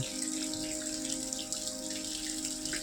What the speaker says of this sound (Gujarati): વરસાદ આવે છે અત્યારે